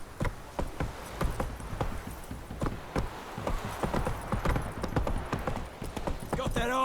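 Roach, Geralt's horse in The Witcher III, trots with quick, regular clip-clop hoofbeats close up, steady throughout with a brief whinny-like rise at the end.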